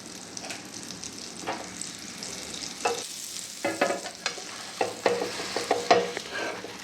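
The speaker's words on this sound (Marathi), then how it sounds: "पाव भाजून घेऊया त्यासाठी मी या तव्यावर बटर टाकत आहे" Butter sizzles on a hot griddle as pav bread rolls toast for pav bhaji, with a soft steady hiss broken by scraping, clattering bursts of pressing and turning.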